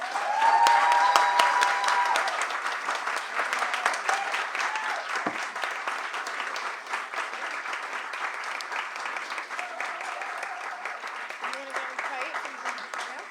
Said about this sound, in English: for one final round of applause